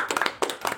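A few scattered hand claps from a small group in a classroom during a group counseling session, brief and close, with no talking.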